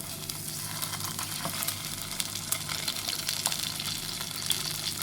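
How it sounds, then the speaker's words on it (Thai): Steady, dense sizzling of mackerel frying in hot oil, a continuous crackling hiss close up with no voices. "ใส่ปลาทูลงไปทอดได้เลยนะคะ"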